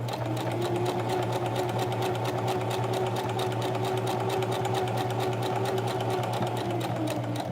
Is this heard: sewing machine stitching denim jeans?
yes